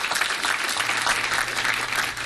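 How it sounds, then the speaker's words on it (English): Steady applause from an audience at a Las Vegas city council meeting, a dense even patter of many hands lasting a couple of seconds without a break. "Let's give him a round of applause."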